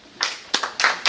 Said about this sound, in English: 1 clap, 1 clap, another clap, another one.